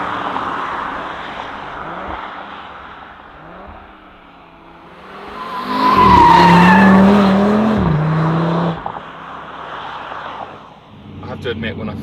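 A 2022 Audi RS 3 with its five-cylinder engine pulls hard on the road, the engine note climbing and surging loudly near the middle before easing off, with a person talking over it throughout.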